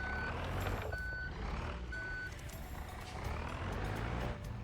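A massive truck in a driving video game gives three evenly spaced, high reversing beeps over a heavy, constant engine rumble.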